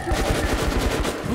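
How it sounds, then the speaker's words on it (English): Rapid automatic gunfire in the video game Metro: Last Light, a dense, even burst of shots close and loud for just over a second. "Who's shooting?"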